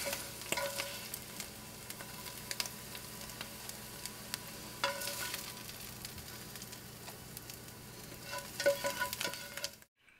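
Wild mushrooms sautéing in a pan, a continuous close frying sizzle with occasional utensil scrapes and taps, growing busier near the end before cutting off, no voices.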